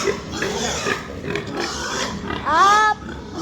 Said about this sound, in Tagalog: Ang liit ng baboy.